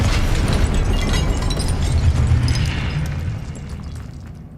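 A fiery blast from the Incendio spell cast in Hogwarts Legacy, a loud, sustained roaring burst with heavy low rumble that slowly fades over several seconds.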